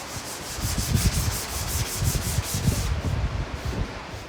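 Plywood speaker enclosure being sanded in a car audio shop, a steady, close rasping rub in rhythmic back-and-forth strokes.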